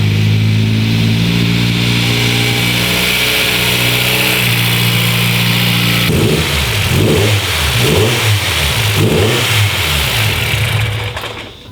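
A Honda Integra Type R engine with adjustable cam gears holds a loud steady drone, then is floored and revs up and down in several surging bursts close by, with no talking.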